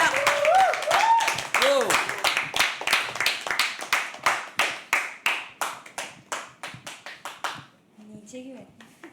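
Rhythmic, unison handclapping at a live poetry open mic that slows and fades out, with voices calling out over the claps at the start and a short word near the end.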